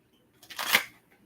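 Tarot cards being shuffled by hand, a single short riffling burst of papery flutter lasting about half a second, close and fairly quiet, with no talk over it.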